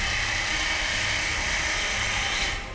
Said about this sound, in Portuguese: a máquina continua martelando a nossa cabeça aqui, mas não tem muito jeito não. São os sons da obra.